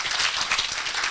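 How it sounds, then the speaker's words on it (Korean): Loud, dense clapping from an audience at a conference session on exchanges with North Korea, continuous and close throughout. "잠깐 좀 인사 박수 좀 한번 크게 좀 부탁드리겠습니다"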